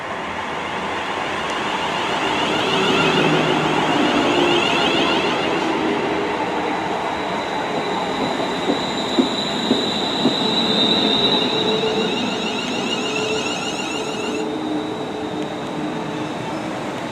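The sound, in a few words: West Midlands Railway train arriving at station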